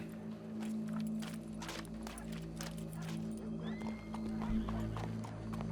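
Horse hooves clip-clop at a steady trot in Red Dead Redemption 2 over a low ambient hum, with a faint whinny and some distant background noise.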